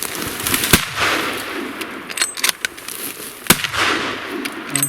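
Rifle shots fired at a brown bear in bushes on the Alaska Peninsula, two sharp loud cracks a few seconds apart against outdoor wind noise and rustling.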